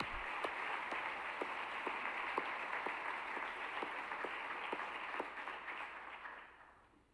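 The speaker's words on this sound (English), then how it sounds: "Let's give them a round of applause." A banquet audience at a university honors event applauds, steady rhythmic clapping with a few distinct sharp claps standing out, fairly distant and moderate in level, fading out toward the end.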